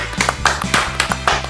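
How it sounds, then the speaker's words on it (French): A presenter of a French-language talk show claps, with about half a dozen sharp, close hand claps in an uneven rhythm over a low steady backing hum. "Voilà, je m'applaudis aussi."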